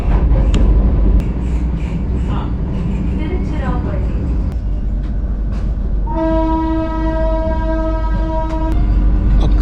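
A Vande Bharat train rumbles loudly nearby passing Ponmalai, then a long steady horn blast sounds and holds for several seconds over the continuous rolling noise.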